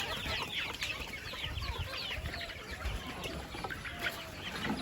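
Local chickens on a poultry farm cluck and murmur steadily, several birds at once, with scratching and rustling around them, a busy, moderately close barnyard chorus with no voices.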